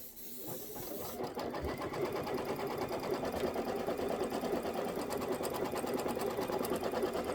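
A sewing machine stitches a quilted table topper steadily, its rapid mechanical whir loud and continuous after a brief start, with no talking.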